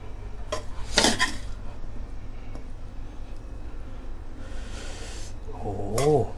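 Mala stir-fried pork belly is scooped from a pan to serve, bringing a few sharp metallic scrapes and clinks of a spatula against the pan, separated by quieter gaps, with no talk.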